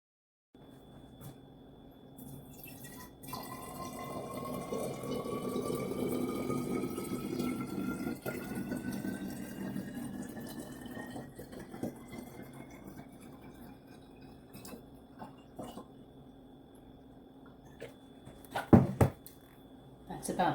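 Filtered water poured into a container for homemade mouthwash: a steady, moderately loud pour whose pitch climbs as the vessel fills, with light clatter and handling noise around it.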